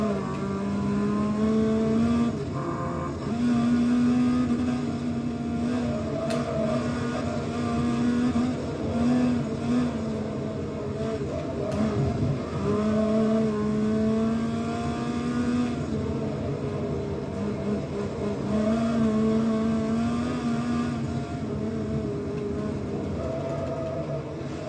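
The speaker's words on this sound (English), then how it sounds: "Rear-wheel drive minis spinning out like crazy cars." Rear-wheel drive Mini cars racing in a video game, engines droning and revving in repeated rising and falling waves, loud and continuous throughout a long stretch of the lap.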